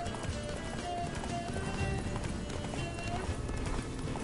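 A horse gallops in the video game The Witcher 3, with rapid, steady hoofbeats continuing throughout, mixed with game ambience.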